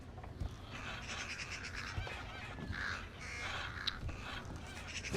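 Several crows caw in a video game, repeated harsh calls overlapping at a moderate distance over a steady ambient background.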